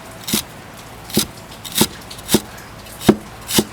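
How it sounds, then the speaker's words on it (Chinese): Chinese chives being chopped finely with a knife on a cutting board for dumpling filling, six distinct crisp chops at an uneven, unhurried pace, close and clear with no talk. "这个要切碎，"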